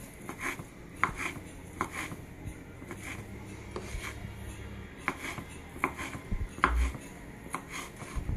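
A knife cuts bell pepper into cubes on a cutting board, giving a steady run of sharp close chops, about one to two per second, with brief pauses and no talk.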